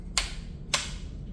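Two sharp, light reports from a Springfield Trapdoor 45-70 rifle firing a low-recoil 400 grain bullet over a small pistol powder load, spaced about half a second apart with quiet in between.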